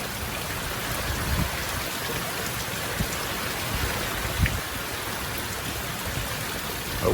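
Steady heavy rain pours down during an approaching storm on a farm, a dense continuous hiss with occasional louder drops and splashes close by, no voices.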